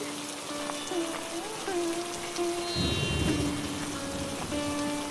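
Steady rain falls around a pond in a continuous, broad wash of patter, with sustained tonal sounds and a faint voice running over it.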